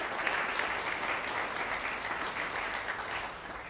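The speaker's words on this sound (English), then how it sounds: "round of applause, thank you." Audience applause at a gathering about policy changes for TCUs, a steady dense round of clapping from many hands that holds evenly for a few seconds and then eases slightly.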